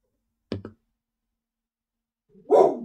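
Dogs bark outside: a short double bark, then a pause of nearly two seconds before a single louder, fuller bark rings out.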